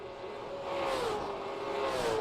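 Race car engines in a short-track racing video game drone and rev faintly in the background, with a wavering engine pitch that rises and falls.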